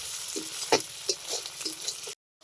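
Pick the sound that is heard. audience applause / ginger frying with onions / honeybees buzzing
ginger frying with onions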